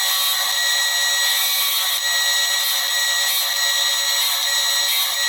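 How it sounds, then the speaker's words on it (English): A 3/32 drill bit bores a row of holes through the metal wall of a burn chamber for a turboramjet engine, a steady high-pitched whine that runs loud and unbroken throughout. "Now I'm going to take a 3/32 drill bit and do our first set of holes"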